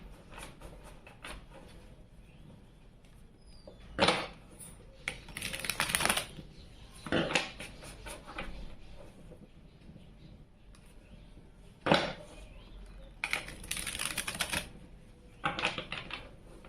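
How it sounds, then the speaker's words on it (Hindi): Tarot cards being shuffled in bursts of quick riffling and clattering taps, separated by quiet pauses, fairly faint and close, with no voices. "कार्ड शफलिंग अगर आपको बोरिंग करती है तो आप यहाँ से वीडियो को स्किप करके डायरेक्ट अपनी"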